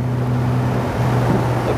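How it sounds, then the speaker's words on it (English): Classic Jaguar XK engine from the late 1940s or early 1950s running smoothly, a steady low drone with a faint shift in pitch partway through, heard from inside the moving car amid road and wind rush. "That engine is so silky smooth."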